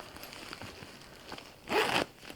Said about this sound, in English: on this side you've got a zipper pocket, or a zipped pocket